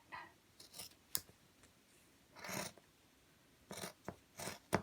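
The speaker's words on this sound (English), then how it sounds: "Now, after we cut it, oh, here's another one. We cut this part." Scissors snip through cloth fabric along a paper pattern for a face mask, quiet crisp cuts in short irregular bursts with pauses between, close and alone.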